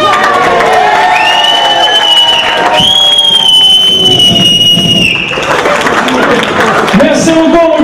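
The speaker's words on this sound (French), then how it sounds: "On applaudit les jumeaux." Wedding guests applaud and cheer for the twins after a reception speech, a lively crowd of clapping, whoops and shouts close by, with voices calling out over it.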